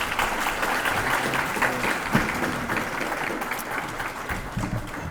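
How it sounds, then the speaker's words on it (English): An audience gives a round of applause after a talk at an evening event, a dense, steady clapping that holds loud and even throughout. "One more time, everybody, a round of applause."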